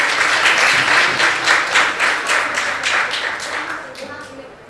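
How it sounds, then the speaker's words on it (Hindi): An audience at a Hindi Diwas ceremony applauds quiz winners, a loud dense burst of clapping that tapers off gradually, with a voice briefly heard near the end. "तालियां बजाइए प्लीज"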